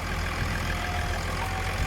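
A big six-cylinder 7840 tractor engine idles at low rpm, a steady low, throbbing rumble with an even pulse, close and continuous with no talking over it.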